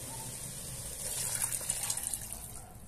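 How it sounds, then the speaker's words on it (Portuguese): Water poured into a cooking pot for shrimp broth, a soft gushing stream that swells midway and then eases, fairly quiet and heard alone. "Colocar água."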